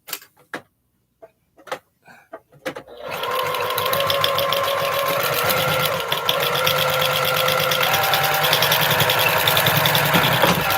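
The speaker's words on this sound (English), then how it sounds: "Let me get these sewn together" A sewing machine stitches quilt star pieces together in a long, steady, close run, preceded by a few brief clicks and knocks as the fabric is set up.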